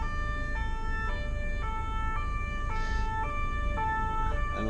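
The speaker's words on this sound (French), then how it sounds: "Le mec, il sait même pas reconnaître une sonnerie de flic et une sonnerie de pompier." A police car's two-tone siren wails in a steady alternating high-low pattern, loud and continuous over low traffic rumble in a road traffic jam.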